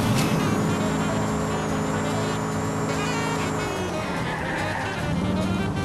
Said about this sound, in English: The car I'm driving, like, it's a stallion, I think.